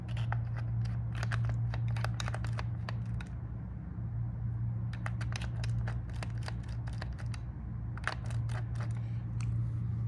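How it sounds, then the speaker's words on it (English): A small screw is worked loose from a roughly 40-year-old Sanyo M 2405H radio cassette, giving faint, close clicky ratcheting ticks in bursts over a steady low electrical hum, with no talk. "all we have to do is to simply take that screw out like this"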